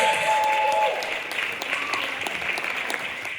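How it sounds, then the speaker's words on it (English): Audience applause at a live talent show grand finale, a steady wash of many clapping hands that carries on for the whole stretch, with a faint tone and some voices underneath. "Give them a massive round of applause"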